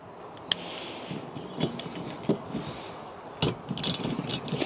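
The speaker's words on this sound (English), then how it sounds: "you're probably not going to be able to do it very easily just using a socket and ratchet like I have done" A socket and ratchet turning a 13mm nut on a BMW 1 Series rear wiper motor, giving close, irregular ratcheting clicks and ticks with short pauses between bursts.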